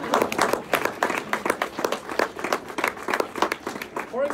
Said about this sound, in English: yes, we can clap, of course.